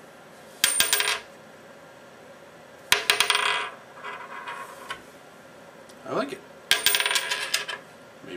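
A coin flicked with one hand spins and rattles on a table in three separate bursts, each a bright metallic whirring that settles down, with a short spoken comment between them.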